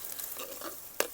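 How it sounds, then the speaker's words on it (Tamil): Onions being stirred in a frying pan for a taro (chembu) gravy, a short soft scrape and sizzle ending in one sharp clack of the spoon against the pan. "இப்போது வெங்காயம் போட்டலாம். நல்லா மிக்ஸ் பண்ணணும். நல்லா ஸ்டிர் பண்ணி"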